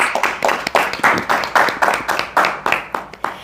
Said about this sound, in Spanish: Recíbalo con fuertes aplausos.